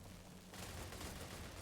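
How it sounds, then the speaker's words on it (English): Faint, distant gunfire rattles at a bandit dump pit in StalCraft, a muffled wash of shots that swells louder and denser halfway through the burst. "There's a lot of gunfire."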